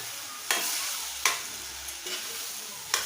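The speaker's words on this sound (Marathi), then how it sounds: "तांदूळ थोडा परतून घेऊया आणि मग आता त्यात आपण गोडा मसाला आणि तिखट घालूया" Rice being stir-fried in a pan with goda masala and chilli powder for pavta bhaat, a soft continuous sizzle broken by a few sharp scraping stirs, close and fairly quiet, with no talking.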